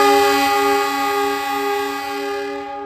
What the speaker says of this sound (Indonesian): Kereta api komuter lain Supas kembali berangkat dari stasiun Bangil.